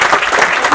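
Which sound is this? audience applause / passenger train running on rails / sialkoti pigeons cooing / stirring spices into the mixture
audience applause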